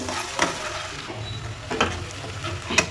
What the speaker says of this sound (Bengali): পেঁয়াজগুলো একদম ফ্রাই করে নেবো লাইট ব্রাউন করে।